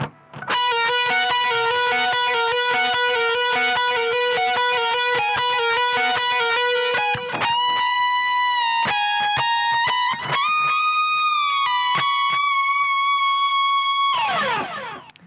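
A heavily distorted electric guitar with a touch of echo plays an E Lydian solo phrase: fast repeated picked notes at first, then slides, bends and sustained singing notes, ending in a downward slide, loud and alone.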